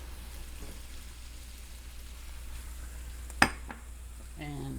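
Food sizzles steadily in a pan with a soft continuous hiss as cumin and chili powder go in, a sharp clack of a utensil against the pan partway through, then a few faint scraping stirs.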